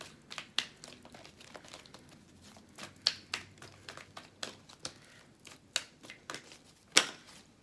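Tarot cards are shuffled by hand in a quiet room, giving soft, irregular papery flicks and taps with a few sharper snaps, faint and close.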